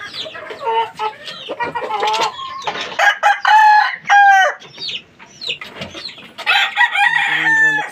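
Gamecocks, fighting roosters raised for cockfighting, crow loudly and repeatedly up close, several long harmonic cock-a-doodle-doo calls overlapping with clucks and squawks and no talk.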